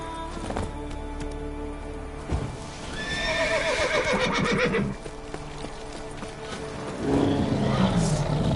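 A horse in The Witcher 3 whinnies loudly with a rising, wavering neigh, while hooves clip-clop nearby and a second shorter whinny or snort follows near the end.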